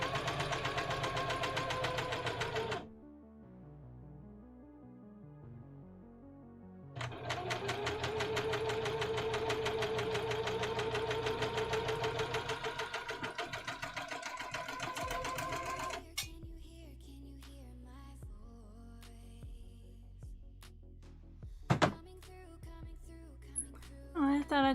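A sewing machine stitches in rapid mechanical bursts, running steadily for a few seconds, pausing, then running again for a longer stretch before trailing off into a few quiet clicks and thumps, close to the microphone.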